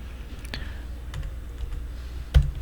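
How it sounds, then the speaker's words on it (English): Keys tapped on a computer keyboard, a few sparse clicks and one sharper keystroke near the end, close and quiet with no voices. "And we're gonna type in,"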